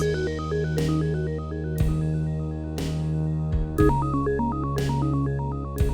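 First layer of a rhythm game's generative music: steady electronic music with a sustained bass drone, a repeating bright melodic pattern and sharp percussive hits roughly every second, looping at an even tempo.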